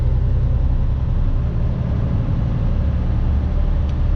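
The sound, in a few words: car driving in traffic on the Mass Pike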